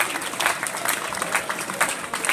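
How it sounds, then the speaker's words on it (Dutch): Applause for Wim Cottenier, honoured as an unlucky man at a local ceremony with the mayor: dense, steady clapping from a nearby crowd filling the whole moment without a break. "Geef vandaag een applaus."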